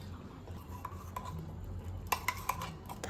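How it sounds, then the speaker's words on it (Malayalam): A spoon stirs ground coconut paste into pineapple pulissery in a pot. There is a faint, soft rubbing at first, then a few sharp metallic clicks against the pot toward the end. "നന്നായി ഇളക്കി മിക്സ് ചെയ്ത് അരപ്പ് കുക്കാകുന്നതുവരെ വെയിറ്റ് ചെയ്യണം"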